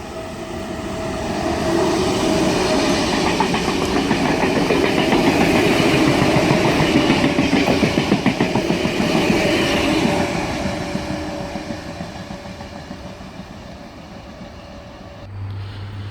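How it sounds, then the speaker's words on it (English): An S set passenger train passing at speed on a main line near Bardwell Park, a loud sustained roar with rhythmic wheel clatter that builds, holds, then fades away as it passes. "We should have a MacArthur Express service about to fly past down main. It's an S set."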